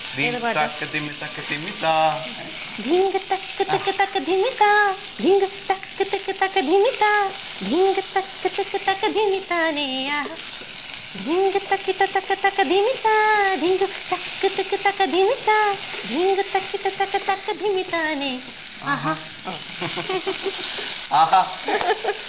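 Chopped onion frying with cumin seeds in hot oil, a continuous close sizzle with repeated scraping stir strokes, while a woman sings over it throughout.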